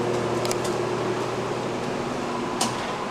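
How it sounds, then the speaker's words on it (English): A basement sump pump runs steadily with a low, constant motor hum and broadband water-moving whoosh, plus a few faint clicks and knocks nearby. "We have an operational sump pump."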